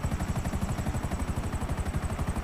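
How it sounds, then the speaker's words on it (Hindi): A police helicopter chasing in the sky, its rotor producing a steady, fast rhythmic thumping chop under a constant whine, loud and continuous with no talk. "वो उधर देखो हेलीकॉप्टर, हेलीकॉप्टर भी चेस कर रहा है यार"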